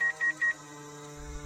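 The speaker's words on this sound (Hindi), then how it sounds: "फोन मिलाने लगी" A phone dials with three short, clean electronic tones in quick succession, followed by quiet background hum.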